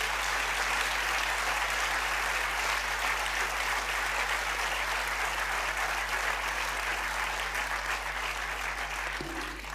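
Audience in a hall giving steady, sustained applause to welcome a cardinal, the Archbishop of Bologna, dense clapping held at an even level for nearly ten seconds over a low electrical hum.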